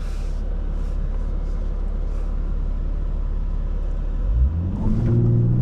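A 2024 Lexus IS350 AWD idles low and steady, then launches hard from a standing start, its engine surging into a loud rising rev near the end.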